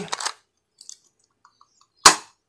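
An air gun, a spring-type BB gun shooting 0.20 g BBs, fires over a chronograph: two sharp, close cracks, one at the start and one near the end, with faint clicks of cocking between them and no talk.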